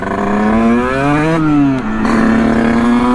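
A Sherco Supermoto 50 with a big bore AM6 engine revs hard while riding, its high buzzing two-stroke note climbing, dipping briefly at a gear change, then climbing again, loud and close throughout.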